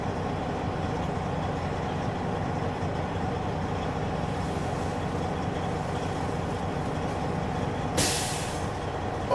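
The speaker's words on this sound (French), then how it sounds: "j'ai entendu mon assècheur d'air. Donc, mon compresseur s'est arrêté entre 117 et 137" A truck's air dryer purges with a brief loud hiss as the air compressor stops during a brake check, cutting through the steady rumble of the idling engine.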